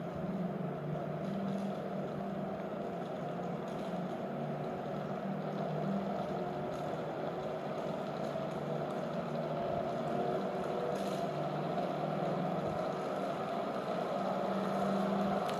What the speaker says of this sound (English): the motor is going to run